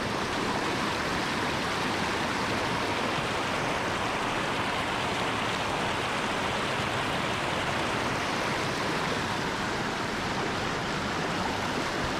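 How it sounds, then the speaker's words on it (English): Water pours continuously over a small creek spillway, a steady loud broadband rush without pauses, no voices present. "Fish this little spillway."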